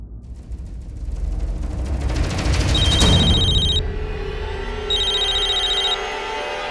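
A mobile phone rings in two separate electronic bursts, loud and close, over a steady room hum, with one sharp knock between them.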